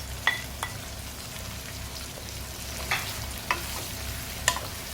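Capsicum, long chili and curry leaves being stirred in a frying pan for an Indonesian chicken dish, with a steady low sizzle and a few sharp clicks of the utensil against the pan.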